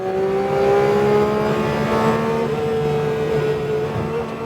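A 2026 Porsche 911 GT3 with a Manthey kit and a 4-liter flat-six engine laps the Nürburgring, its engine note held loud and steady as it drives past, rising and shifting in pitch.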